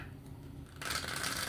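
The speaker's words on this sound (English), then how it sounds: "One more shuffle." A short, crisp riffle of tarot cards being shuffled, a quick flutter of paper lasting under a second, close and fairly quiet.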